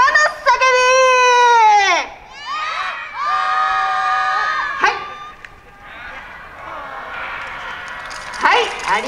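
A festival crowd at a yosakoi dance performance shouts a mountain echo call together, loud sustained voices rising and falling in several long bursts, with cheering between the calls.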